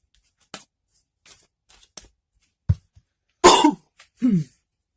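A person with a cold gives a couple of harsh, loud coughs near the end, after scattered soft clicks and small throat noises in an otherwise quiet room.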